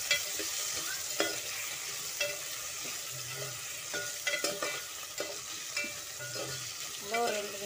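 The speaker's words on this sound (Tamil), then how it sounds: "நல்லா ஒரு 2 நிமிஷம் நல்லா வணக்கி விடுங்க." Spinach (palak) sautéing in a pan, a steady soft sizzle with intermittent scraping and stirring clicks close by.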